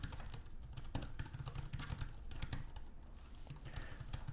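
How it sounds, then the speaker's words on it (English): Rapid typing on a Chuwi Hi13 tablet keyboard dock, close and steady, a dense run of small plastic clicks and taps with no voices. "Let's check out the keyboard."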